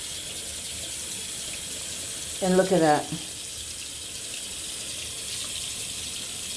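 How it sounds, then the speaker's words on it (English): Water from a sink faucet splashes steadily into a sink being scrubbed of cigarette burn stains. The rushing is continuous and close, and a person speaks briefly over it. "splashing water."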